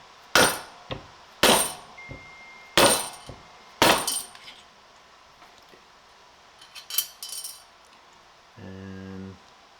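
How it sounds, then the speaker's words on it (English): Hammer taps seat a part in an engine cylinder head for an RX-8 LSx drift build: four sharp, ringing metallic strikes spaced about a second apart, followed by quieter clinks and a low mechanical hum at the end. "I'm just going to hit it a couple times with a hammer."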